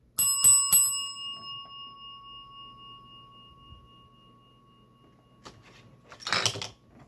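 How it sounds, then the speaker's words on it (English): A small ring bell for a toy action-figure wrestling match is struck three times in quick succession at the start, then a long ringing decay. Faint handling noises follow, with a brief rustle near the end. "I guess we'll ring the bell."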